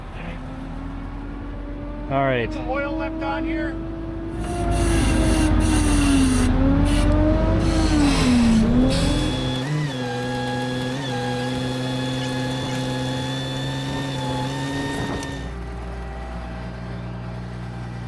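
A repaired tree spade's engine cranks and catches, then revs up and down with a rising and falling roar before settling into a steady idle, while people talk nearby.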